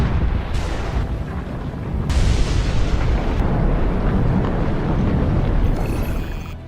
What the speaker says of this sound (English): The Hunga Tonga underwater volcano abruptly woke up from its sound sleep.